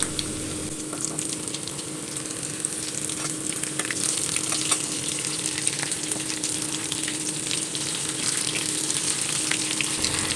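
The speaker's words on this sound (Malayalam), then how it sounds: "ഇതിലേക്ക് നമുക്ക് ഓരോ കട്ട്ലേറ്റ് ഇട്ട് കൊടുക്കാം" Spinach (cheera) cutlets frying in hot oil, giving a steady, dense sizzle that holds evenly throughout with occasional small crackles and pops, close and fairly loud with no talking.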